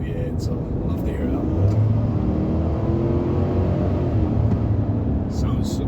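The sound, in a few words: GMC Sierra 5.3 V8 Ecotec3 engine revving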